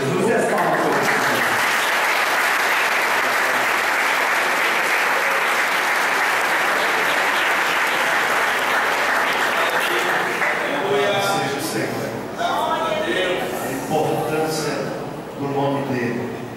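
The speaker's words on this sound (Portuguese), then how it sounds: "E as palmas para o Senhor." A church congregation claps loudly and steadily for a long stretch, then the applause thins out and a voice begins speaking over the fading claps.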